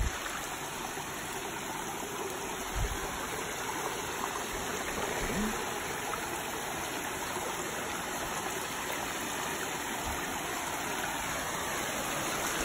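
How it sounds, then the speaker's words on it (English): A small muddy creek in the Smoky Mountains national park flows with a steady, even rush of water, constant and close with no breaks. "Got a little creek going on here in front of us, though."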